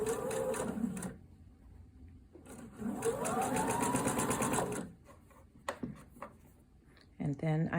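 A domestic sewing machine stitches bias tape onto fabric in bursts of rapid, rhythmic needle hum, stopping and starting with short pauses and a brief clatter between runs.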